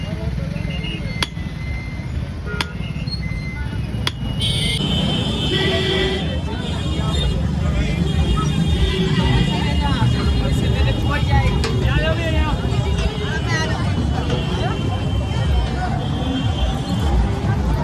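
Inside a crowded auto rickshaw heading to a waiting bus, its engine rumbles steadily with passing traffic while people chatter throughout, and several sharp knocks and rattles come early on.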